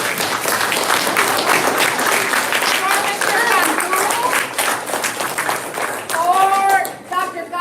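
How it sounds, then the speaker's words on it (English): An elementary school audience applauds the teachers, a loud, dense burst of clapping that carries on for several seconds, with a few voices calling out near the end as it fades. "Also a round of applause for the teachers."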